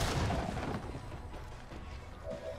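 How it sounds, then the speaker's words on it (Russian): A single gunshot in XCOM 2 lands as a heavy boom at the start and decays into a low, rumbling ambience, with a faint tonal cue near the end. "Дальше верный выстрел."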